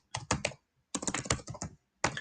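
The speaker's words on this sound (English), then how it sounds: "in the group chat, I would literally type in something like this" Quick bursts of typing on a computer keyboard, close and clear, in three clusters of rapid keystrokes separated by short pauses.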